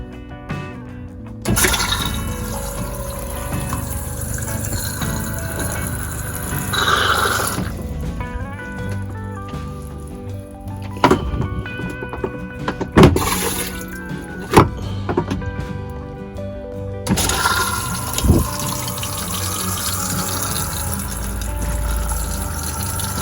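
A toilet in a Solis 59P camper van flushes with a loud rush of water, then gurgles and refills, with a few clicks and knocks along the way.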